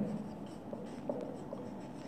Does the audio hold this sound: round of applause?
no